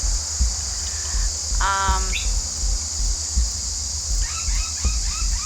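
A pet bird lets out a short squawking call indoors, then a few softer chirps, over a steady background hum and occasional thumps.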